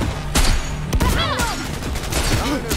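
Rapid pistol fire from River's sidearm during a Cyberpunk 2077 firefight, several sharp cracking shots in quick bursts mixed with ricochets and whizzing effects, loud and close throughout, with no talk.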